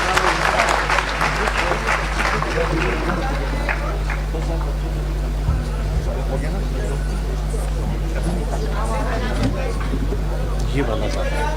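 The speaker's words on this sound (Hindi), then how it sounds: "तो जोरदार तालियों स्वागत कीजिए प्रणव तिवारी" An audience at a victory celebration event in Indore breaks into loud applause to welcome a poet. The clapping is strongest in the first few seconds, then thins into crowd chatter over a steady electrical hum.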